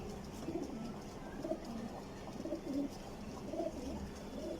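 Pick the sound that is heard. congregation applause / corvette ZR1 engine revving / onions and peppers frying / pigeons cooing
pigeons cooing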